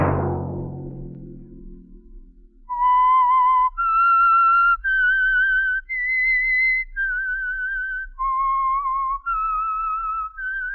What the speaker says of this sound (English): Let that whistle be your signal for the Whistler each Sunday night at the same time.